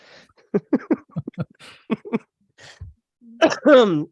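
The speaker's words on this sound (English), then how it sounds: "Anyway, sorry, I'll keep coughing." Several short, sharp coughs and throat-clearing bursts from one person with a sore throat, spaced in a rough rhythm close to the microphone, ending in a heavier hacking cough.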